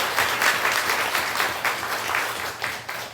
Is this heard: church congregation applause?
yes